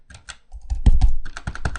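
Computer keyboard keys clatter in a rapid, uneven burst of close, crisp presses while shortcuts are used during 3D modeling in Blender, with no talking.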